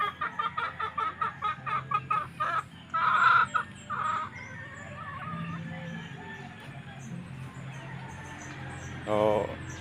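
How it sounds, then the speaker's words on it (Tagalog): Rhode Island Red chickens cluck in a busy, overlapping series at feeding time, close and fairly loud at first, then softer with low background noise and a brief louder burst near the end. "tamang pakain lang ako ng mga alaga kong RIR chicken."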